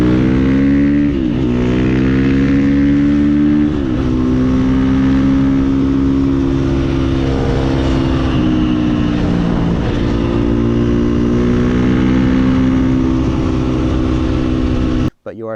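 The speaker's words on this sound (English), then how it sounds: "But you are starting to rev it a fair amount there." A KTM 350 EXC-F motorbike engine drones loudly and steadily, pitch climbing and dipping with throttle and gear changes, close up, ending abruptly; someone talks beneath the engine noise.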